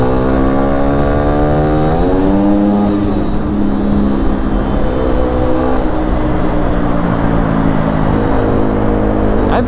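A Beta RR 125 LC motorcycle rides through a tunnel, its loud, close engine drone echoing off the walls. The engine note climbs once as it revs up, then settles into a steady hum.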